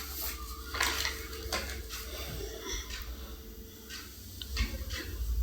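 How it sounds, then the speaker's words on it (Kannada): Beans, carrots and potatoes being stirred together in a pressure cooker for vegetable pulao, with repeated clinks and scrapes of a metal spoon against the pot under a low steady hiss. "ನೋಡಿ ಎಲ್ಲನೂ ಸೇರಿಸ್ಕೊಂಡು ಹಂಗೆ ಲೈಟಾಗಿ ಮಿಕ್ಸ್ ಮಾಡ್ಕೊತಾ ಇದ್ದೀನಿ ನಾನು."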